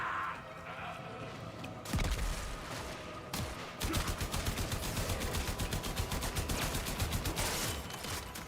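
Video game gunfire from Warframe, with dense rapid bursts of automatic shots that start abruptly and keep rattling steadily and close for several seconds.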